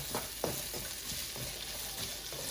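Vegetables and onion are stir-fried Cantonese style in a hot pan with no sauce, giving a continuous loud sizzle broken by quick scraping stirs.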